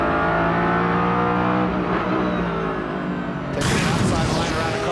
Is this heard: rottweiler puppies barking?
no